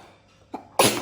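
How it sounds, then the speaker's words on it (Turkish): A single sharp sneeze bursts out near the end after a short intake of breath, close and loud. "Hapşırdık."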